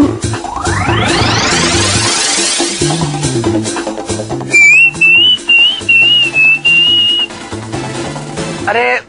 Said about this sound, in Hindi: आप सीटी क्यों बजा रहे हो?